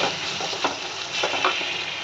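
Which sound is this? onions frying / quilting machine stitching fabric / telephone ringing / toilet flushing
onions frying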